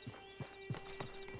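Horse hooves from Red Dead Redemption 2 clip-clop in a slow, even walking rhythm, four or five soft, close hoof falls over a low background hum.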